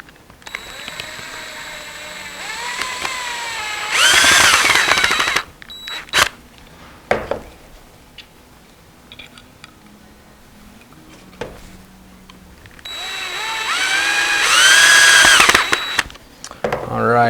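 Power drill driving screws at an angle into a Kromski harp loom, two rising whirring bursts with clicks and handling noise between them, loud and close.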